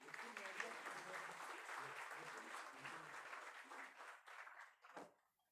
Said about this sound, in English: Please welcome Shri Piyush Goyal with a warm round of applause